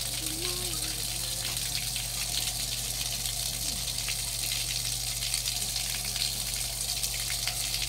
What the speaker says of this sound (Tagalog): Malakas na po ang tubig.